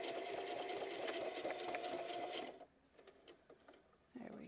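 A sewing machine back stitching as a project is sewn, its fast close mechanical whir running for about two and a half seconds, then stopping to faint handling clicks before a brief restart.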